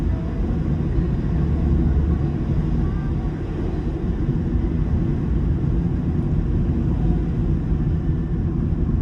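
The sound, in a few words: car driving on snowy road during snowstorm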